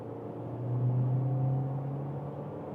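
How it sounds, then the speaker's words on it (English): A Skoda Superb Estate with sporty suspension settings accelerates on a motorway from 50 km/h, its engine a steady low rumble that swells and then holds under road noise, with no voices. "we accelerate on the motorway from 50 kilometers an hour"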